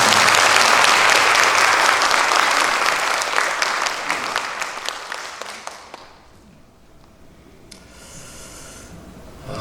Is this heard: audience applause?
yes